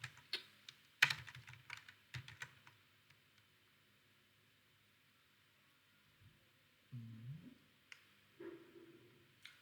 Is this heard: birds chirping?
no